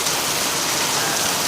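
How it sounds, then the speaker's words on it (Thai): Small hailstones mixed with heavy rain hammer down at a home in Chiang Mai, Thailand, a dense, steady hiss and patter with no breaks. "ดูฝนนะครับ เป็นลูกเห็บแต่ว่าเป็นก้อนไม่ใหญ่มากนะครับก้อนเล็กๆนะครับ"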